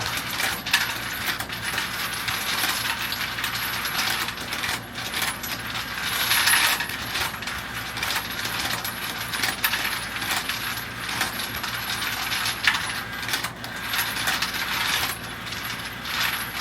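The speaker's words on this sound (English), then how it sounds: "I've got the automatic case feeder on here. It does speed things up" Automatic case feeder dropping .223 and 9mm brass cases, a continuous stream of light metallic clinks and jingles with mechanical rattling, fairly close and without talk.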